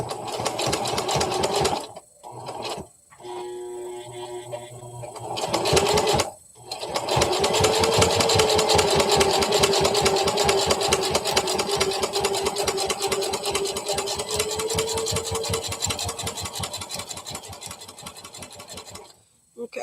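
Domestic sewing machine stitching a Chameleon sewing pattern garment, overlapping a few stitches where the seam began; a steady motor whir with rapid needle clatter runs nearly continuously, broken by two brief pauses early on, with a voice talking faintly beneath.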